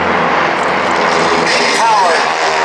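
A jet car powered by a J-34 jet engine runs at the Wings Over North Georgia airshow, giving a loud, steady, unbroken roar throughout, with a voice faintly beneath it.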